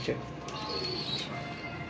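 Soft pigeon coos murmur close by against a noisy background, with a few faint chirps mixed in.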